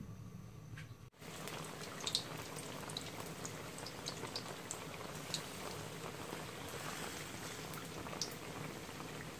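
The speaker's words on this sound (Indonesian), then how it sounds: "Air tu bobo sedang molek lah." Water coming to a boil in a pot on a stove, a quiet continuous bubbling hiss with faint pops and ticks throughout, heard alone.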